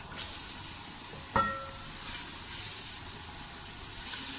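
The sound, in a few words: onions frying in hot oil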